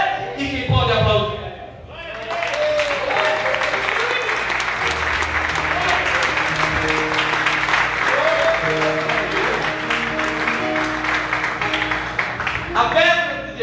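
A church congregation applauding in a sustained wave of clapping that fills the room for over ten seconds, with a preacher's voice speaking at the start and end.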